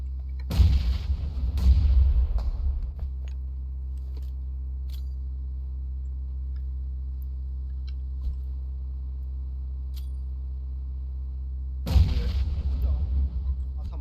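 Two heavy blasts from an in-game grenade, each a loud boom with a rumbling tail, separated by a long stretch of low steady hum.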